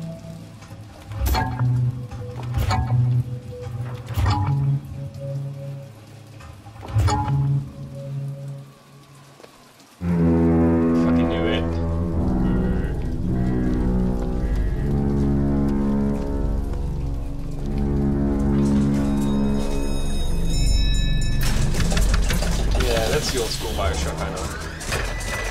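Steady rain patters throughout in the video game BioShock Infinite, joined midway by a denser musical backdrop and scattered sharp impacts, with a voice speaking briefly near the start.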